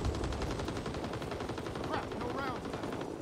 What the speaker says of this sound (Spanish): cómo tira la PPSH, la virgen